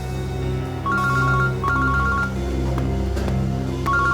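A phone rings with a repeated two-tone electronic trill in short bursts over a steady low hum, fairly loud and close, with no speech during the rings.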